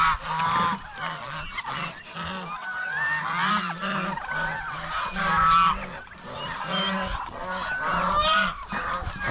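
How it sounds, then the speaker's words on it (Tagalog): A flock of farm geese keeps up a raucous chorus of repeated, overlapping nasal honks, loud and close, in uneven bursts lasting several seconds. "Yung gansa natin, nabawasan din sila. Pero napakaingay pa rin nila kahit nabawasan sila ng 5 hits."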